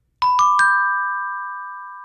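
A church bell in a bell tower built in 1920 strikes three quick times, then its bright tone rings on and slowly fades, loud and clear with no voices.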